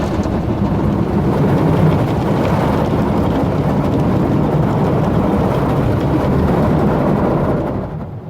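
Big spinning brushes of an automatic car wash in Scotts Valley, Santa Cruz scrub a van from inside, a loud, steady roaring wash of noise that shakes the cabin, fading slightly at the end.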